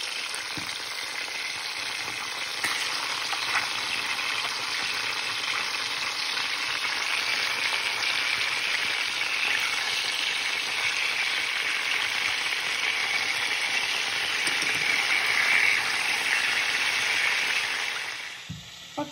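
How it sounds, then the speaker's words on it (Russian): Seasoned chicken pieces fry in a pan, a loud, continuous close-up sizzle that holds steady throughout and fades away at the very end. "Пока курица у меня обжаривается"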